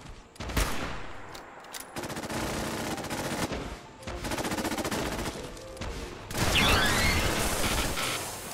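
A sentry bot in Fallout 76 fires sustained bursts of loud automatic gunfire, with dense rattling volleys, brief pauses and a final heavier burst with crackling fire.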